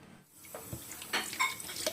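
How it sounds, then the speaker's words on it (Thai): Eggs are rinsed clean under a running kitchen tap before being made into salted eggs: quiet, uneven splashing and trickling water with small knocks against the sink. "ก่อนอื่นก็ล้างไข่ให้สะอาดก่อนนะคะ ล้างไข่ทุกใบเลย"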